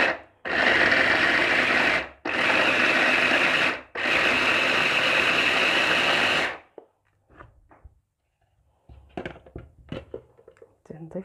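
Blender grinding tomatoes in a home kitchen, loud whirring bursts in three runs separated by brief stops, followed by quieter kitchen clatter and a voice talking.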